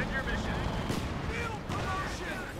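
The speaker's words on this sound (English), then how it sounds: "there you go, artillery fire going in there from the M8 Scott" Artillery fire from an M8 Scott in Company of Heroes 2, a 1v1 match, heard as a few booming impacts and rumbling blasts in the background while a commentator keeps talking over them.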